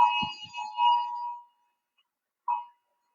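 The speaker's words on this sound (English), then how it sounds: "that's an Amber Alert that just went off" An Amber Alert emergency alarm going off on a phone, sounding as ringing tonal bursts with a few clicks mixed in, then a short pause and one more brief tone.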